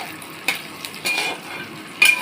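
Onions frying in a pan with ginger-garlic paste just added give a steady, close sizzle, broken by three sharp scrapes of a spoon stirring against the pan.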